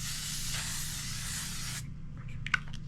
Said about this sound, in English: L'Oreal Infallible Setting Spray.